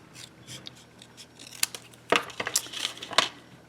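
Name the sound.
cutting embossed card in half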